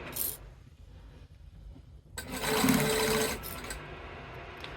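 A sewing machine stitches a straight waistband, a fast steady whirring run of about a second close by, with quiet pauses before and after and no speech.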